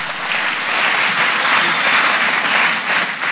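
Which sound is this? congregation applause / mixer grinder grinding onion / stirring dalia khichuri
congregation applause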